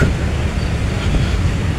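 A Bangkok MRT underground metro train runs along, a loud, continuous low rumble and roar from inside the carriage with no clear breaks or voices.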